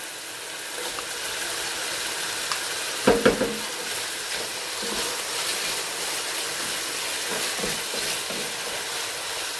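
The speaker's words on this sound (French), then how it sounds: "Après, on rajoute nos légumes, les oignons, cela." Vegetables and onions sizzle steadily in a pan while being stirred, a soft continuous frying hiss with a few sharp clatters of utensil on the pan partway through.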